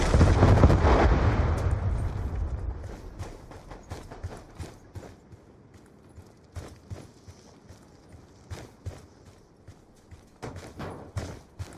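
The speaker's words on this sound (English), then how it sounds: "Friendly Hellstorm missile inbound." A Hellstorm missile explodes in Call of Duty Black Ops II multiplayer, a loud, close blast that rumbles and decays over several seconds, followed by scattered sharp gunshots and impacts.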